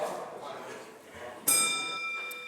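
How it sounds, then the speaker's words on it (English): A single bright bell strike ending parliamentary question period rings out clearly over murmuring background voices, its tone sustaining and slowly fading. "Bell ends question period."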